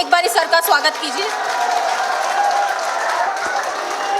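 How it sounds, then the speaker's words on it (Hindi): Audience applause welcoming a speaker at a Youth Day programme at an academy, steady crowd clapping that opens with a few louder claps and then holds as a dense, even wash. "बहुत जोरदार तालियों के साथ एक बार सर का स्वागत कीजिए।"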